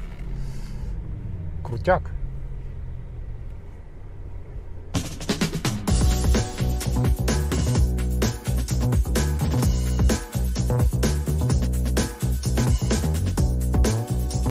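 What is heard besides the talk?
Porsche Taycan Cross Turismo sport sound mode soundtrack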